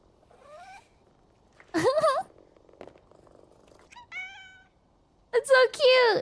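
A fat cat meows repeatedly in clear, close, rising and falling calls, with a soft purring rumble between the meows.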